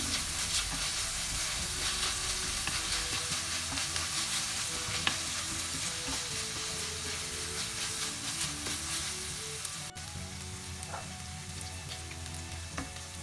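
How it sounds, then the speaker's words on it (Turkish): Black pepper and red pepper flakes are stirred into a ramen pan, with a continuous frying sizzle and steamy hiss under intermittent utensil scrapes and light clinks, moderately close. "Güzelce karıştırıyorum."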